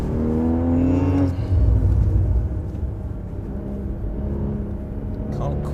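A Porsche Cayman sports car accelerates on a track, its engine note rising in pitch before easing into a steady drone, heard from inside the car under continuous talking.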